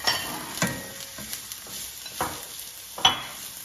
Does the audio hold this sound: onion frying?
yes